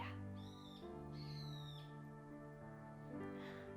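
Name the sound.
birds chirping outside near a garden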